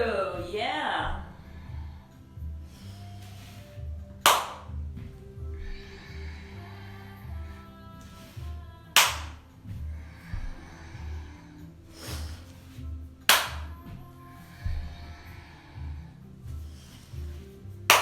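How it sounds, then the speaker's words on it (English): Hands clapping during a yoga kriya practice, sharp single claps spaced every few seconds over a steady low rhythmic background, with a voice heard briefly near the start. "Keep going, you got it. Keep clapping and bowing."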